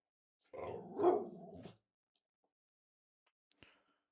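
A dog named Lady gives one short, loud bark-growl up close, and a couple of faint clicks follow in near silence.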